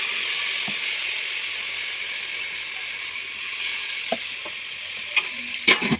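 Chili paste hisses in hot oil over a mustard-seed tempering, an even, close sizzle that holds steady throughout, with a few faint clicks and knocks toward the end.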